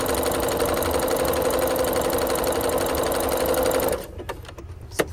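A Janome Memory Craft 7700 QCP sewing machine runs steadily, stitching with a loud, even mechanical whir for about four seconds before stopping, leaving faint clicks and handling noises.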